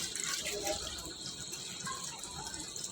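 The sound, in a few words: water being added to beef biryani pot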